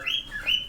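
Two quick, high chirps from a small pet bird nearby, sharp and tuneful against a quiet room.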